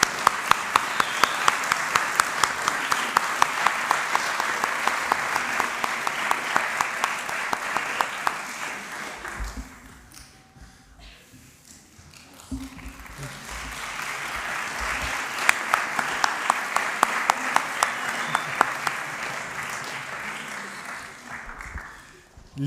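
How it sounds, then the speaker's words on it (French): A church congregation applauds Mario on his birthday at a December service, with sustained dense clapping that dips into a quieter pause near the middle before swelling again, murmuring voices underneath. "Je pense qu'on peut tous l'applaudir."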